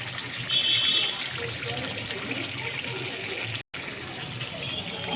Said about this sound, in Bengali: কষানো শেষ, এখন জল দিব।